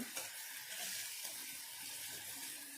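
Spices and green chillies fry in hot oil for a village-style red pumpkin bhaji as they are stirred, giving a steady, fairly soft sizzling hiss throughout.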